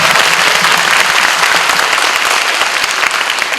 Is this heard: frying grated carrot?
no